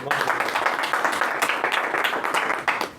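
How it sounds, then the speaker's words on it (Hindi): An audience at a company presentation applauds, a dense, continuous burst of clapping filling the space for a few seconds with no distinct voices. "एक बार तालियां हो जाएं"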